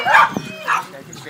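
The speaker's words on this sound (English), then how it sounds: "And all the dogs go crazy." Several dogs yip and bark excitedly in short bursts close by, mixed with a person talking over them.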